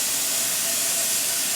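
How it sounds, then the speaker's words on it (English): Steady, loud broadband hiss of steam venting from a pressure canner's vent pipe while green beans are canned, continuous and unbroken throughout with no pauses. "steam has been coming out of the vent pipe for at least 10 minutes"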